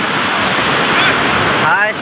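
Sea waves roll onto Puri beach as a steady, loud surf roar that fills the whole stretch, with a faint voice briefly rising near the end.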